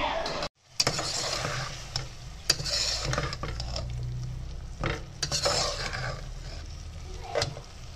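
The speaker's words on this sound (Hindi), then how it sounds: "प्याज फ्राई हो रहे हैं गोल्डन गोल्डन" Onions fry golden in a pan, giving a continuous loud sizzle broken by scraping stirs and clinks of a spoon against the cookware, close up and without talk.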